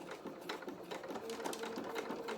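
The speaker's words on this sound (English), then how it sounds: "we're going to sew with a 1/4 inch seam allowance. So let's reverse." A sewing machine stitches fabric for a doll's playsuit with a quarter-inch seam, a rapid, steady mechanical whir and clatter close by, running continuously without speech.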